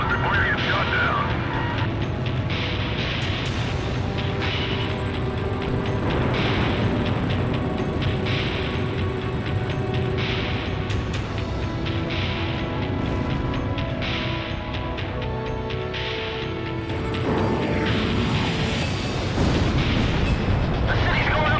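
Bombs exploding during a city bombing run in the video game Ace Combat Zero, a dense, continuous roar of booms and blasts layered with game music, with voices talking over it throughout.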